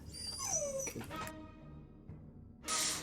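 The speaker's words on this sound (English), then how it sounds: "Keep hearing a dog in the background." Dog whimpering and yelping in the background during a tabletop role-playing session, a few rising and falling whines followed by a short sharp yip, faint and distant.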